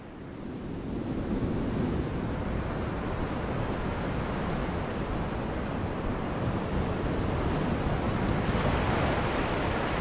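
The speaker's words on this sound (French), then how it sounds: "La vitesse de l'eau remontant sur la plage nous montre l'effet spectaculaire des marées sur les océans." Waves washing up a beach in South Wales at rising tide: a steady, loud, broadband rush of surf with wind, continuous throughout without pauses.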